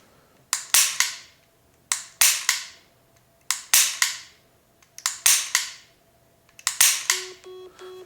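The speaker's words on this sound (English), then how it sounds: "That was 4 trigger pulls that it counted as 10." Dry-fire trigger pulls on a handgun fitted with a Mantis X training system: sharp, crisp clicks arriving in close pairs or triplets, repeated several times at a steady pace with short gaps, loud and close, with no talking.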